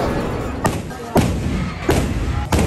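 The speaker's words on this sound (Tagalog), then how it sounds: "para saksiyan ang liwat nga pagsigabong sa mga kanyon" Four distant cannon booms go off at irregular intervals during an outdoor celebration in Bago City, over a constant murmur of crowd noise and chatter.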